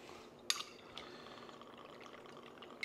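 Vodka poured into a jigger or glass for a melon ball cocktail, a soft trickle after a sharp glassy clink, with a few faint taps, quiet and close.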